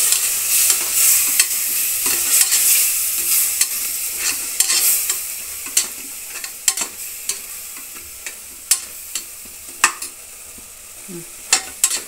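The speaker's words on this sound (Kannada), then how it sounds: "ನಂತರ ತರಕಾರಿಗಳನ್ನು ಹಾಕ್ತಾ ಇದ್ದೀನಿ. ಕಾಲಿಫ್ಲವರು, ಕ್ಯಾರೆಟು, ಹುರುಳಿಕಾಯಿ, ಈ ಮೂರನ್ನು ಹಾಕ್ತಾ ಇದ್ದೀನಿ." Cauliflower, carrot and beans going into a pan for vegetable pulao, stirred steadily with a spoon over a constant hiss of sizzling, and sharp clicks of the utensil scraping and tapping the pan throughout.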